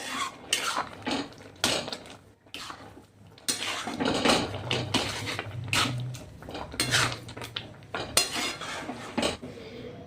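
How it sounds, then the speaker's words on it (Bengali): Carrot halwa is stirred in a pan while sugar melts, with repeated metal spoon scrapes and clanks against the pan in uneven bursts, close and moderately loud over faint sizzling. "চিনিটা গলবার জন্য কিছু নাড়তে হবে।"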